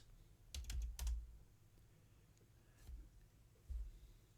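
A random password typed on a computer keyboard: a short burst of a few faint keystrokes, then two more isolated taps after pauses, all quiet and close with no speech.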